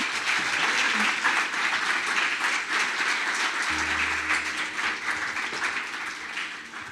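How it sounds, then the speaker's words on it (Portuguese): A church congregation claps for Jesus during a sermon: dense, sustained applause filling the room, steady and fairly loud throughout, tapering slightly at the end, with a low rumble underneath partway through. "aplauda Jesus aí"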